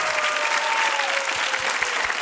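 A studio audience on a televised singing competition bursts into dense, steady applause, loud and continuous throughout.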